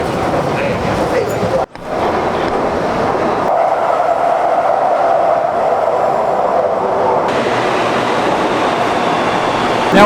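A Shanghai metro train runs loud and steady throughout, a continuous rumbling roar of rail noise inside the car with a brief dropout early on and a shift in tone partway through.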